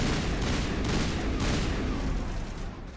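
Sustained assault rifle fire in Mass Effect 1 Legendary Edition, a loud, dense stream of rapid shots and booming impacts with no pauses throughout.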